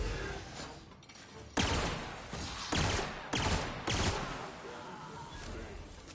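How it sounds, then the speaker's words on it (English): A burst gun in The Outer Worlds fires several loud, sharp volleys of rapid shots in quick succession, each burst ending abruptly before the next. "Oh, it's a burst gun."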